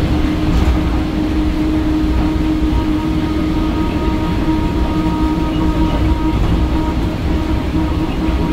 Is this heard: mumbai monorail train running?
yes